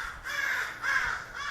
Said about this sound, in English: The crow's going crazy because my cat is walking around.